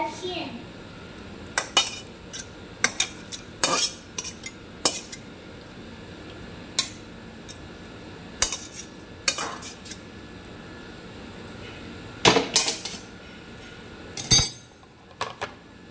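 Cooked shukto, a Bengali vegetable curry with drumstick, pointed gourd, bitter gourd and potato, is served from the pot into a dish as a spoon scrapes and clinks sharply against metal at irregular intervals, with faint voices in the background.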